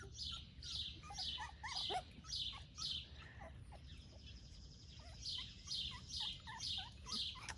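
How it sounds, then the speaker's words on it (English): Birds chirp outdoors in a rhythmic run of bright, repeated calls, a few phrases with a short pause midway, over a low constant background hum, fairly close and clear with no talk. "the birds are noisy out here today"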